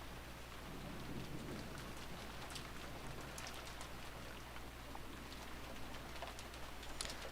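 Video game rain patters steadily under a low, constant hum, with scattered sharper drops ticking through; no voices.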